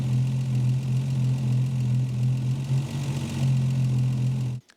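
A Volvo 164 six-cylinder engine idles at about 800 rpm, a steady low rumble with a smooth, even hum held close and loud, then cutting off abruptly at the end.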